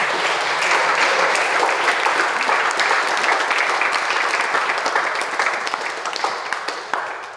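Sustained applause from a high school audience filling a gymnasium-style hall at a motivational talk, a dense steady wash of many hands clapping that tapers slightly toward the end.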